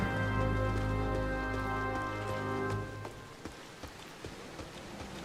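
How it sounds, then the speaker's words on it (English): Rain in the Final Fantasy video game around Gridania, a steady soft patter under a sustained musical tone that fades after a few seconds, leaving quieter scattered drops. "Starting to rain."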